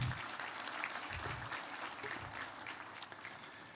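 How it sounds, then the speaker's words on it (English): Applause from an audience at a corporate sustainability report launch, a steady patter of clapping lasting throughout at moderate distance, with a few louder low thumps near the start and some faint murmur underneath. "And I think we can clap for Equity and we can clap for ourselves."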